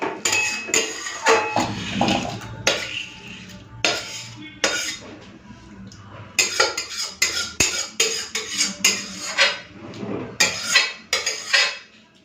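Metal dishes and utensils clatter and clink nearby in irregular bursts while a wok is washed in a home kitchen, with quieter scraping and running water sounds between the louder knocks.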